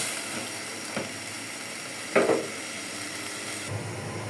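Garlic, green chili, jackfruit seeds and dried fish sizzle steadily in a hot pan, a continuous bright frying hiss with a few soft scrapes of stirring, no voices.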